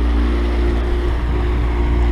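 A sailboat motoring at 5.2 knots under engine power in light wind, heading toward a lock; a steady, loud, continuous engine drone with a low hum runs through the whole stretch.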